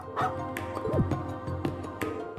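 A dog in the video game Trails Into Reverie gives a few short yips and a whimpering bark over soft in-game background music, fairly close and moderately loud.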